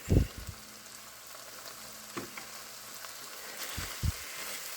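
Chicken with butter and cowboy seasoning cooks in a pan, a faint, steady sizzle with a few soft knocks from the pan.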